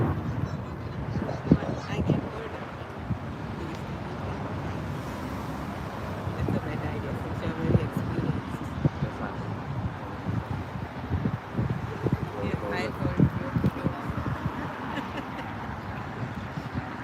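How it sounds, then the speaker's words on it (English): An airplane departs from LAX airport as a steady, broad roar that holds throughout, mixed with gusty wind noise on the microphone. "now there's another plane departing"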